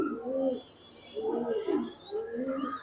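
A Netherlands racing pigeon coos in three soft, rolling phrases close by, with brief pauses between them.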